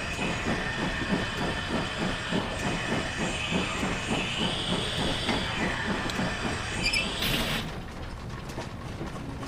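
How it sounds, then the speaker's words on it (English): A GWR Manor steam locomotive in Train Simulator 2020 runs with a steady rhythmic chuffing and clanking of valve gear under a constant hiss, ending in a sharp burst of steam release, loud and close throughout. "the valve noises and stuff that this loco makes, they're really good"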